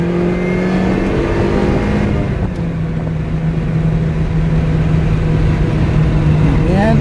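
A 2011 Lotus Exige sports car engine pulls hard on the gas after a gear change, a steady, loud, droning mechanical note heard from inside the car, with a voice talking over it.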